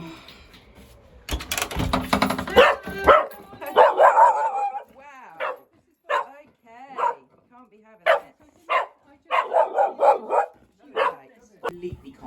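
A dog barks repeatedly in short bursts after a knock at the door, with yips and whimpers between, while a dog trainer talks nearby.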